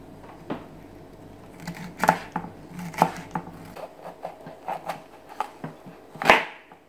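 A knife slices chicken lengthwise into strips for lemon pepper chicken, giving a series of sharp cutting taps and thuds against a board, spaced irregularly across the clip and fairly close, with no talking.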